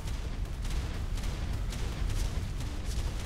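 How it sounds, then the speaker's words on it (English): A dense, continuous barrage of explosions in the heavily modded survival game Ark on the Olympus map, loud rumbling booms overlapping without pause. "all these explosions"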